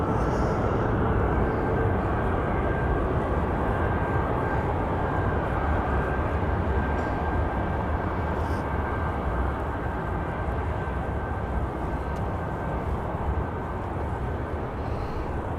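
Air India airliner taxiing for departure at Birmingham Airport, a continuous even jet engine rumble with a faint steady whine, heard from a distance without talk.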